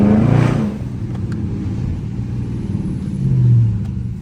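Dodge Charger RT driving through city streets, its engine rumbling close by, swelling at the start, settling into a low steady drone, then rising again near the end, with no talking.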